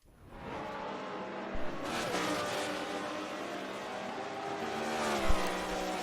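Several GT race cars roar past at the finish line of a racing game at Sonoma, engines droning steadily with rising pitch and a couple of sharp peaks as cars pass close by, no talk.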